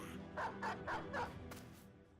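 A war dog in the Battle Brothers game gives four quick, evenly spaced barks, fairly loud over a steady low game hum, followed by a short sharp burst.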